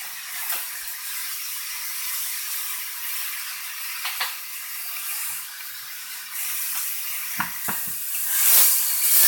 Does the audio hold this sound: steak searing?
yes